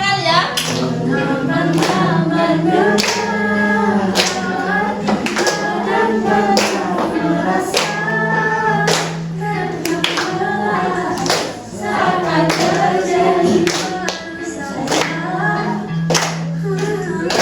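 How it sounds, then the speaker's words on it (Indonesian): A group of people sing together while clapping in steady rhythm at a school coaching session, sharp regular claps running under the singing throughout. "Satu tepuk tangan ya"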